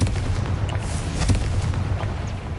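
A Confringo blasting spell explodes in the Hogwarts Legacy video game, producing a dense, rumbling low boom that lasts throughout, with scattered crackling bursts layered over steady game ambience.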